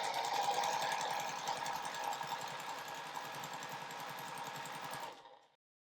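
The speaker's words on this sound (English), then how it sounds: "And then I'll sew a 1/4 inch seam." A sewing machine runs a quarter-inch seam through quilt block fabric with a fast, even, close stitching rhythm that holds steady for about five seconds, then stops.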